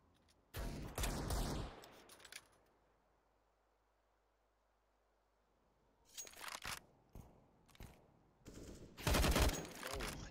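Bursts of gunfire from a CS:GO match, a loud rattling volley near the start and several sharp shots and rapid bursts later, separated by a quiet stretch.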